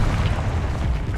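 Bombarda and Confringo explosion spells go off in the Hogwarts Legacy video game, heard as one continuous, deep, rumbling boom, loud and dense, lasting just over a second with no speech.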